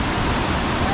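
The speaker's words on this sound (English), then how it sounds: "That is some raging water." Huka Falls in New Zealand, fed by Lake Taupō, roars as raging water in a dense, steady, broadband rush with no pauses or voices.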